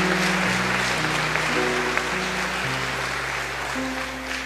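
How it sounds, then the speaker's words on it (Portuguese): A church congregation claps together in steady, dense applause that fills the room, with a sustained musical tone of a keyboard or organ underneath throughout. "Vamos aplaudir esse Deus vivo que está no meio de nós."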